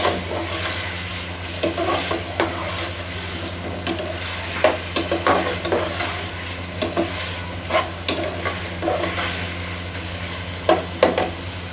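Chicken fries and gets stirred in a pan, a steady close sizzle broken by sharp, irregular scrapes and clacks of the spoon against the metal, with a low hum under it throughout.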